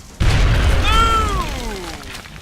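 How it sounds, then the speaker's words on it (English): A grenade blast in the video game XCOM: Enemy Unknown, a sudden loud boom followed by a sustained rumbling roar with a falling, whistling tonal sweep as it fades. "Throwing grenade."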